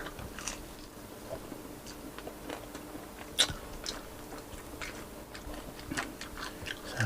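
Close, soft crunching bites and chewing of dried salted fish (tuyo) at a Filipino breakfast mukbang, an irregular series of small crisp crunches over a quiet background.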